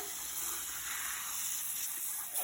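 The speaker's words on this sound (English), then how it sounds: "we'll get it all good soak with water" Water pouring steadily over a tray of sprouts, a continuous hissing gush from a hose or tap that stays even and fairly close, with no voices over it.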